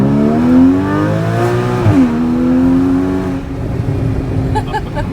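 A 2015 Porsche Cayman GTS engine revs hard while driving, its pitch climbing, dipping briefly, then climbing again in a loud, close, continuous howl that eases off toward the end.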